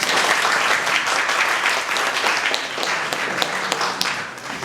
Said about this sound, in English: give a huge round of applause for all the participants